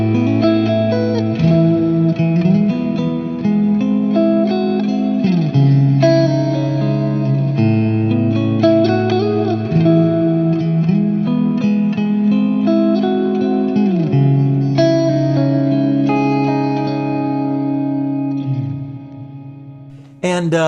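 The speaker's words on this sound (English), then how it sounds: "So now I turn on the ambient verb, and it sounds like this." Electric guitar played through an ambient reverb setting on a HeadRush unit, with sustained chords and slow melodic changes washing into a lush, lingering tail that fades near the end.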